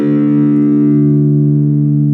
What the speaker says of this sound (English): you need to tune your 6th string down till it sounds like this